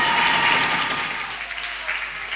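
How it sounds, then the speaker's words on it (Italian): A theater audience claps for actors on stage, a dense and loud burst of many hands that stays fairly even and slowly thins over a couple of seconds, with no talking. "applauso più forte"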